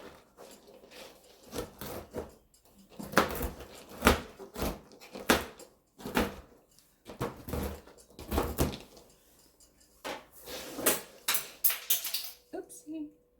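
Pecans roughly chopped with a knife on a board: irregular bursts of loud, close cutting knocks and crunches, with short pauses between them.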